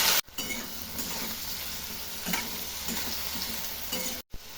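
Pre-cut eggplant pieces sizzle and fry steadily in hot oil in a pan, with a continuous close crackle and brief stirring noises.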